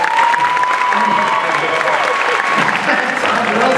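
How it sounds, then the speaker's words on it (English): A Star Wars Weekends panel audience breaks into sustained, loud applause with some cheering, a dense steady roar of clapping that fills the room throughout. "Ladies and gentlemen, please, big round of applause for Tim Rose"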